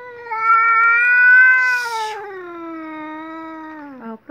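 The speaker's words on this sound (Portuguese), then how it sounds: "Ô, gato do mato." A wild cat gives one long, loud, wavering yowl, close by and drawn out for several seconds, with a brief rustle in the middle and no talk.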